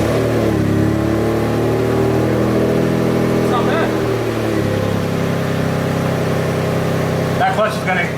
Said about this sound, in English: I'm a little nervous to see if the car starts.